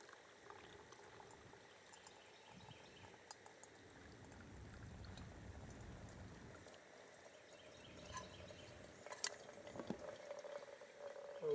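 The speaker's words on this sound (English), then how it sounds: "So I'm just going to pour it in this filter." Pine needle tea is poured through a paper coffee filter, making a quiet, soft trickle and gurgle of liquid that builds slightly toward the end.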